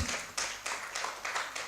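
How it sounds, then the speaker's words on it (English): At a law business conference, an audience breaks into brief, dense applause, the clapping swelling in a few quick waves. "If you want to clap, it's a good time to clap."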